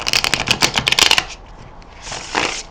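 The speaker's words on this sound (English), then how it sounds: "it's one of my favorite decks to shuffle" A quick riffle shuffle of a large tarot deck, a rapid flurry of crisp flutters, followed by a softer bridging rustle as the deck settles.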